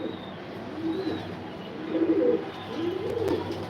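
Racing pigeons coo softly in a loft, a few low rolling coos repeating at a relaxed pace against a quiet background, with occasional faint chirps.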